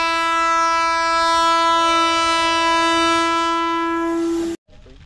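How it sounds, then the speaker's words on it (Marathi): A train horn blares loudly and steadily for about four and a half seconds as a train passes near a riverside spot, then cuts off abruptly, leaving faint rumble and ambient noise. "ट्रेन आले बघा"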